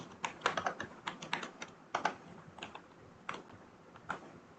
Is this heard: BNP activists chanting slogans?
no